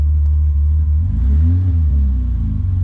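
A BMW E30's engine idles with a steady low rumble, then revs up and falls back once in a smooth swell, loud and close, with no voices.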